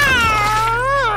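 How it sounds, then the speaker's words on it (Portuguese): A cartoon cat lets out a single loud, drawn-out whining meow with a bending pitch, clear and close. "Olha, Tom! Miau"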